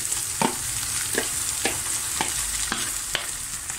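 Plain rice sautés in oil in a pot with onion already softened, a constant dense sizzle carrying six evenly spaced stirring scrapes, close by and alone without voices.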